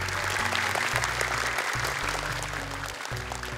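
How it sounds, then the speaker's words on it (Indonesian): A studio audience claps for a group of young Quran memorizers on a televised contest, a steady burst of applause running under background music. "Oke, tepuk tangan dong untuk kelompok 2 ini."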